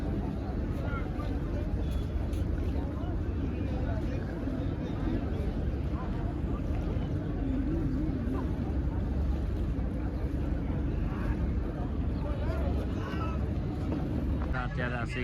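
A boat cruises on the Ganges near the ghats at Kashi, and a steady, loud rush of engine and wind runs through the whole stretch without a break.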